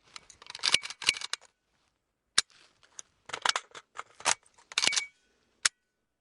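AK-74 rifle magazine reload, with clustered metallic clacks and rattles as the magazine is rocked in, then a sharp charging-handle snap, all loud and close with brief pauses between bursts.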